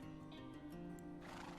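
A horse whinnies in the Minecraft Crafting Dead roleplay game, a drawn-out harmonic neigh that falls and shifts in pitch, loud and close, with faint hoof clip-clop under it.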